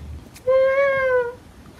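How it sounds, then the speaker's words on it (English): A cartoon cat meows once in a Wario video game, a single clear, drawn-out tonal meow lasting under a second over soft background noise. "Oh, it's a cat."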